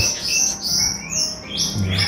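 Bali myna chirping, a young bird with bright, high whistles and sharp tweets repeating in short bursts, close and loud with no voices.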